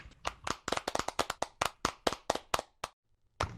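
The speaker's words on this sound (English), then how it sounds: "Well, we all know how to clap now." A handful of people clap hands in a quick, uneven burst of sharp close claps over about three seconds, then a short silence and a final clap.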